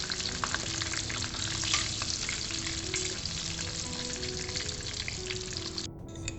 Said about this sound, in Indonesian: Untuk tambahan aku juga goreng terong panjang ungu.